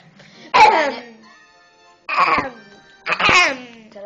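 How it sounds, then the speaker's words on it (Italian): Someone coughs three times in separate broad bursts with pauses between, close and fairly loud, during a playthrough of Super Mario Galaxy 2. "Te la smetti di tossire."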